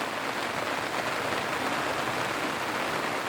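Heavy rain pours steadily onto the water and boat during a boat ride on Dal Lake in Kashmir, a dense, even hiss with no pauses and no voices.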